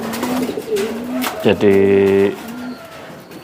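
A male breeding pigeon gives one short, resonant coo, close by, between stretches of someone talking.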